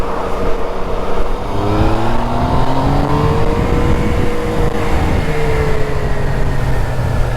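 A 2018 Yamaha MT-09 motorcycle rides along with its engine loud and close. The revs rise and fall through the gears over steady wind rush.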